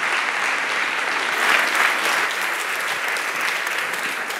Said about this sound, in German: Ganz herzlichen Applaus